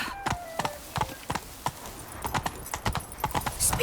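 Horse hooves trot in a steady clip-clop rhythm across a video game scene, close and fairly loud, with a brief snort or whinny-like sound near the end and no speech over it.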